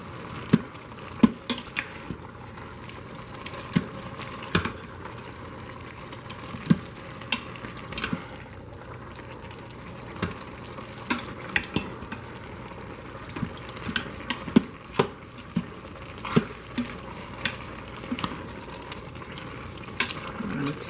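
Collard greens simmering in a pot are stirred, with repeated spoon clinks and scrapes against the pot over a soft, steady bubbling and sizzle.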